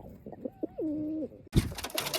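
A pigeon coos nearby in a soft, drawn-out call with a few short notes first, followed by a sudden burst of rustling noise.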